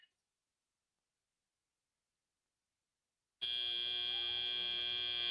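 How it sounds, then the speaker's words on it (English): After about three seconds of silence, a loud electronic buzzer blares at a robotics competition match, holding one harsh, steady tone through to the end. "As the buzzer sounds"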